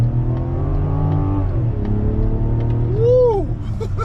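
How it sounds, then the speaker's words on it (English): A 2024 Mazda CX-90 SUV with an inline turbocharged six-cylinder engine accelerates hard, its engine note rising steadily with a loud, close rumble, and a brief whine sweeps up and down near the end. "So this is an inline turbo 6, and I'll punch it real quick to give you an idea."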